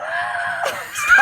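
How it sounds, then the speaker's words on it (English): A man screams in a loud, continuous, strained cry as he climbs under a table after spilling coffee, with a sharper rise toward the end. "He's climbing under the table screaming."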